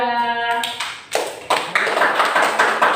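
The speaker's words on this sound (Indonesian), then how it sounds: "tepuk tangan buat kelompok 2" Elementary classroom pupils clap for a group after its presentation, the sharp handclaps starting partway through and continuing in a loose, uneven rhythm after a voice speaks at the start.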